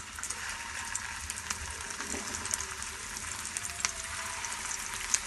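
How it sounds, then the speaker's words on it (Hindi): Mutton koftas fry in hot oil in a frying pan over medium heat, a steady, close, crackling sizzle with occasional faint pops and no voices. "तो अब हम कोफ्तों को फ्राई कर लेते हैं"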